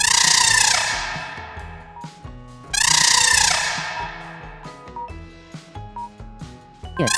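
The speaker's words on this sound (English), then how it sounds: "It's elephant." An elephant trumpets twice, loud, bright and sweeping downward, each call fading out over light background music.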